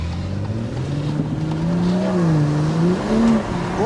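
A BMW M240i with its gasoline particulate filter deleted runs in its loudest mode, the exhaust droning close and loud with rising and falling engine pitch as the revs build and ease.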